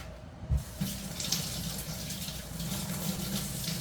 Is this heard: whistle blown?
no